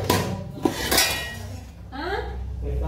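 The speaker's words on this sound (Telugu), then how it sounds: "గిన్నెలు అయితే కడుక్కోవాలి." Dishes, pots and utensils are washed by hand in a village home after a meal, with sharp metallic clinks and clatters near the start and a voice briefly heard partway through.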